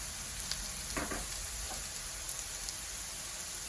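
Potato and eggplant frying in a pan, a steady dense sizzle with faint crackles and a few soft stirring scrapes, close and continuous with no voices.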